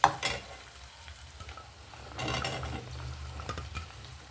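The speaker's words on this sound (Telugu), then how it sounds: "ఇప్పుడు బీరకాయ ముక్కలు వేసుకుందామండి" Pieces of ridge gourd sizzle and fry in a pan with soft stirring scrapes. The sizzle is steady and fairly quiet, with a brief louder burst partway through and no speech.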